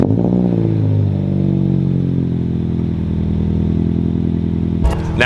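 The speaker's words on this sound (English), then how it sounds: "this might be the last cold start with it being this quiet" A Subaru BRZ with its stock exhaust cold starts, a loud close engine catching and settling into a steady idle with a low burbling tone, then a clatter at the end.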